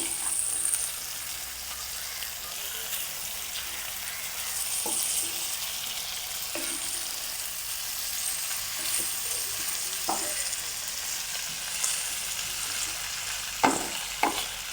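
Cooked beef pieces fry in a pan for a Kerala-style beef fry, giving a steady, soft sizzle with occasional scrapes and taps of a spoon stirring, close and fairly quiet, without talk.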